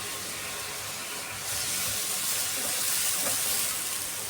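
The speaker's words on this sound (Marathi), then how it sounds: "पॅनवर पाणी शिंपडले." Water is sprinkled onto a hot pan for beetroot dosa. Its steady hiss steps up into a louder, close sizzle of steam partway through and continues to the end.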